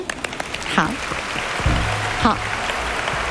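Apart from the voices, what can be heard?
audience applause at Hakka music award ceremony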